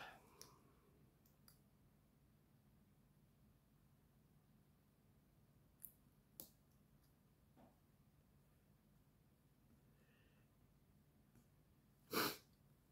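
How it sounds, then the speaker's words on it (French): One sharp sneeze near the end of an otherwise quiet stretch, preceded by a few soft clicks and breaths nearby. "Quand j'éternue, moi, c'est... après, j'en ai pour un moment."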